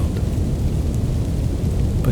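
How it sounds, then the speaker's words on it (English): Steady rain hisses beneath a deep, low rumbling ambient pad, a dense and continuous wash at moderate loudness with no voices. "You can hear the steady rain and the deep ambient pads vibrating softly against the surface of the shield"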